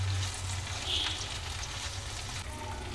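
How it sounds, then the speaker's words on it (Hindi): Crushed ginger and garlic fry with sautéed vegetables for a bean and potato dish, producing a soft, steady sizzle with faint crackles in a quiet kitchen and no talking. "अदरक लहसुन डालकर थोड़ा देर भून लिए हैं"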